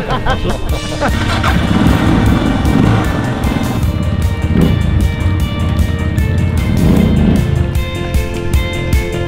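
A vehicle sets off and drives steadily out of Ulaanbaatar, Mongolia, on roads that may carry ice, its engine a continuous close rumble throughout, with people talking over it.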